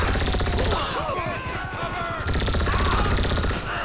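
Rapid bursts of automatic gunfire from a powerful weapon in a modded GTA 5 bank-robbery game, loud and dense with sharp repeated reports over a busy game soundscape.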